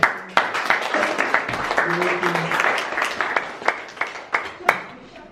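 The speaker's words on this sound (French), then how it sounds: "Applaudissons au Seigneur." Steady rhythmic clapping from a church congregation, with sharp individual claps standing out, while voices sing or call out over it.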